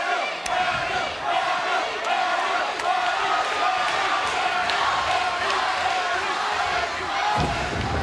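Wrestling arena crowd at TNA Victory Road 2012 during a Jeff Hardy versus Kurt Angle match, a loud, sustained roar of cheering and chanting with scattered sharp thuds, heard throughout with commentators talking over it.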